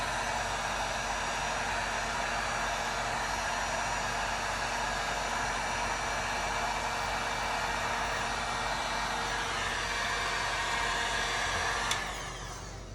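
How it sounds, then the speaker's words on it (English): A hair dryer blows steadily at close range with a constant whooshing roar, cutting off near the end. "Then you have to have a hair dryer."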